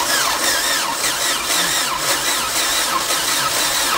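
A Peugeot 309 engine cranks on its first start attempt, giving a steady, loud mechanical churning and whirring that runs unbroken for about four seconds, close by.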